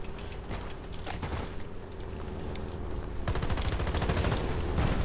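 XM-25 grenade launcher firing in a video game, a series of rapid sharp shots and bursts that grow denser and louder toward the end over a background of game noise.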